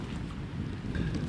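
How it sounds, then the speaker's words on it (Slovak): Soft breeze rushes over the microphone outdoors beside cold water, a low, steady buffeting with slight gusts and no speech. "jemný vánok fúka"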